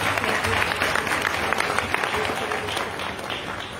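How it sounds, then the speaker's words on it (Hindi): Loud applause from an audience at a religious discourse, a steady wash of many hands clapping that holds throughout and eases slightly near the end. "इसलिए उनके लिए जोरदार ताली बजा रहे हैं"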